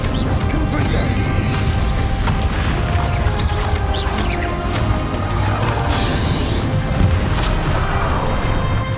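A Confringo explosive spell goes off in Hogwarts Legacy during a fight with a magically protected dragon, the blast smothered in a dense, continuous roar of crashing and booming game-battle noise that stays loud for the whole stretch.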